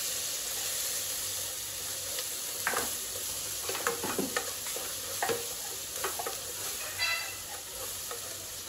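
Mutton cooking in a pot with mint and ginger-garlic paste gives a steady low sizzle and hiss, with several short scraping stirs near the middle and end, moderately close, no voices.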